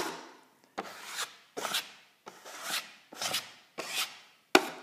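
Drywall knife squeegeeing excess joint compound off a wall patch, six close scraping swipes at a steady pace, each a short gritty rasp, with no talk.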